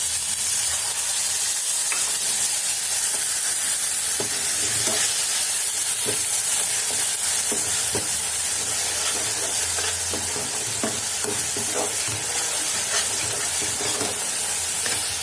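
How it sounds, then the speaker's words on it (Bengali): Spice paste with tomato sauce and a splash of water frying in a pan, a steady close hiss and sizzle with occasional stirring scrapes and pops throughout. "মশলাটাকে একটু জল দিয়ে কষিয়ে নেব।"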